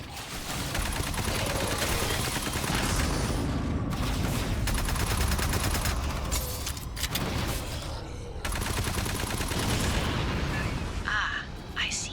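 Gunfire blasts at capacitors in the video game Aliens Fireteam Elite: loud, dense bursts of automatic shooting and booms go on almost nonstop, with short pauses, while voices talk over the action.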